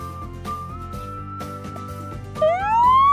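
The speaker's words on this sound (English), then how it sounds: "Fire truck." A fire truck siren rises and wails over a steady rumbling engine, starting with a sustained tone and climbing sharply near the end as it grows louder.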